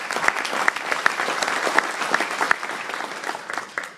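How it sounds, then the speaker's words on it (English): Lively applause from an audience thanking supporters at a fundraising event, a dense patter of claps with scattered sharper hits, holding for several seconds before tapering off at the end, with no speech. "Please give them a round of applause."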